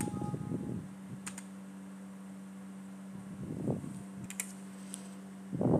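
Computer keyboard keys tapped in Excel, a few soft clustered clicks separated by pauses over a steady low electrical hum.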